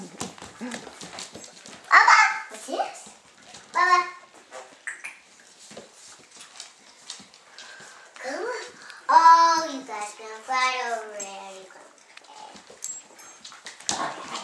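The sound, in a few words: puppies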